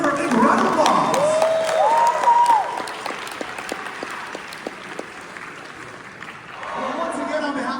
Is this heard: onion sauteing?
no